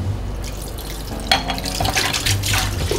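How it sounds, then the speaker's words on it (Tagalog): Tap water runs into a sink while dishes are washed, a steady close splashing with a few louder bursts and clatters as items pass under the stream. "Hugasan ko lang muna mga pinagkainan ko."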